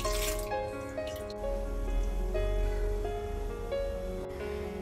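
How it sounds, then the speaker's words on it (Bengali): Cold water drips and trickles over boiled soybean chunks and potatoes being rinsed, a steady close patter of drops and small splashes with a low running-water hum underneath. "ওপর থেকে ঠান্ডা জল দিয়ে আমি একটু সয়াবিন আলুটাকে একটু ধুয়ে নিচ্ছি।"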